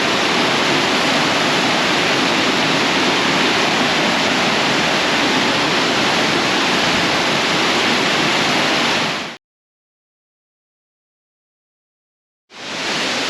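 Water pours over the rocky falls at Gooseberry Falls State Park in Minnesota in a loud, steady rush that cuts out briefly near the end and then returns.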